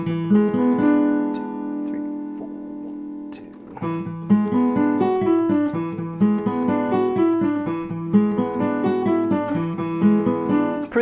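A strummed guitar riff from a song plays on its own, a held chord that gives way to the driving repeated figure, loud and steady with no voice.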